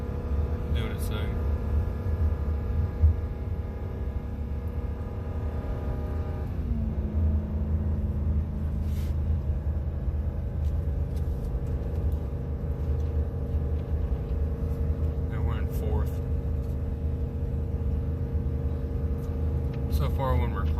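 A 2019 Ram 3500 pickup with a 6.4 Hemi V8 and 4.10 gears drones steadily while climbing a mountain grade towing a fifth-wheel trailer, its low rumble and engine tone shifting as the throttle feathers, heard from inside the cab.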